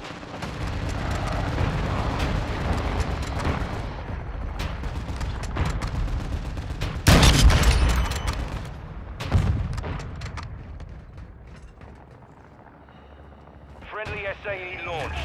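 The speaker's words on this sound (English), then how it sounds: "Friendly cruise missile inbound." A cruise missile strike blasts in Call of Duty Modern Warfare II multiplayer Invasion mode, a sudden loud explosion midway rising over dense continuous gunfire and battle noise, followed by a smaller boom and fading rumble as voice callouts continue.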